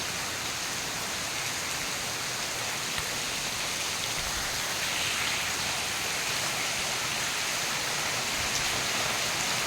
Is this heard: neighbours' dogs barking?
no